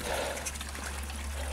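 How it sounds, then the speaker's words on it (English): Water trickles steadily from a small stone fountain in Assisi, a close, continuous light splashing with an outdoor hum underneath. "I'm going to stop here at this lovely little fountain"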